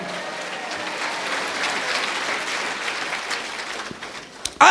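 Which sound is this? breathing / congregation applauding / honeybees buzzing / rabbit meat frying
congregation applauding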